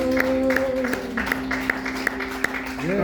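A church congregation claps hands at a Sunday morning tabernacle service, a brisk run of claps heard over sustained music tones, with a voice briefly rising at the end.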